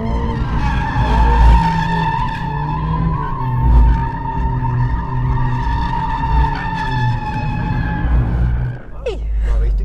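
A Mercedes-AMG A45 S in drift mode holds a long, loud tire squeal over a straining engine, with the pitch wavering as it slides, then tapering off near the end.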